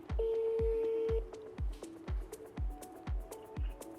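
Repeated electronic phone-call dialing tones beep in a steady sequence, one long tone followed by shorter beeps, alongside soft rhythmic thumps, fairly quiet.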